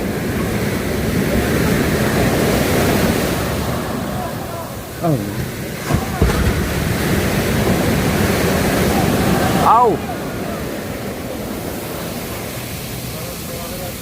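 Big rough waves churn and crash in a steady, loud roar of turbulent water, with a man briefly exclaiming and crying out over the surging noise.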